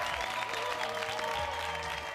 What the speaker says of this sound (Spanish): Un aplauso para Pía que se despide en el día de hoy.